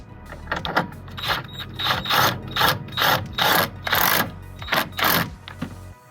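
A ratchet with a 13 mm socket on an extension loosens a battery hold-down bracket on a 2017 GMC Sierra 2500 Denali Duramax diesel, sounding as a series of close, rhythmic clicking bursts separated by short pauses.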